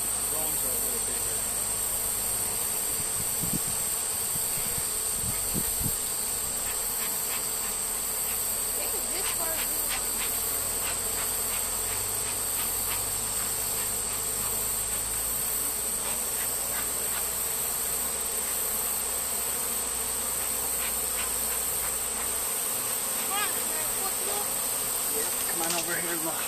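Honey bees buzz steadily around an open hive during a colony transfer, a dense, continuous drone close by with faint background hiss and no talking.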